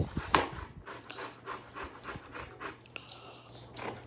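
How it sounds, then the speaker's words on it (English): Citrus rind being zested on a grater in a kitchen, a series of short, close rasping strokes in an irregular rhythm, faint and dry, with no talking. "we're going to go ahead and zest off a half a teaspoon."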